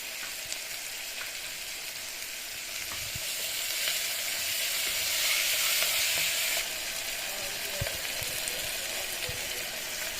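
Ginger paste sizzling in a hot pan while a chicken curry with chukka kura is being made, a steady close frying hiss that swells briefly in the middle, with no talk.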